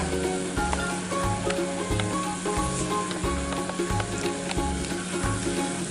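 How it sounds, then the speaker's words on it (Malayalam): Chilli gobi, battered cauliflower tossed in sauce with coriander leaves, sizzles loudly in a pan over a high flame, a steady close crackling with faint stirring scrapes and no talk. "ഇനി ഒരു ഹൈ ഫ്ലെയിമിൽ 2 മിനിറ്റ് നമുക്കിത് കുക്ക് ചെയ്യാം"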